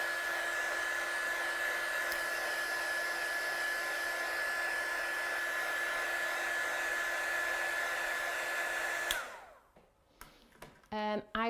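A hair dryer blows steadily and loudly at close range while drying a crafted card design, then switches off abruptly, leaving quiet handling noises and a short burst of talking at the end.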